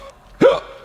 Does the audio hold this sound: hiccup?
yes